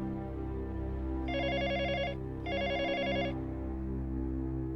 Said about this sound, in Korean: 고요한 집안을 울리는 전화 벨소리에 심장이 멎는 것 같았다.